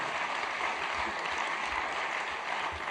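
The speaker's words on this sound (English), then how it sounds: "A proper round of applause." Steady, full round of applause from a large audience at the Zenith Bank Tech Fair, honouring bank executives, a dense even wash of clapping sustained for about three seconds with no talk.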